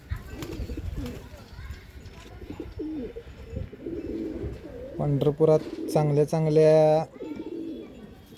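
Pigeons at a loft in Pandharpur coo in a few short, rhythmic bursts near the end, close and fairly loud, while someone talks over them and between the calls.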